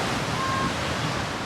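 Sea waves crash along the English coast at Salcombe or Weymouth, a steady close roar of surf and spray that fills the short stretch without pause.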